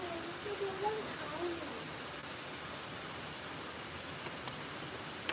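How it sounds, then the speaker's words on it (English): Heavy rain pours down outdoors among trees in Ottawa as a steady, dense hiss of rainfall, close and even, with faint voices briefly heard at the start. "Look, it's pouring the rain again."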